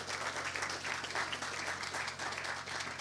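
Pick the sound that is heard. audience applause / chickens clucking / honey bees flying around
audience applause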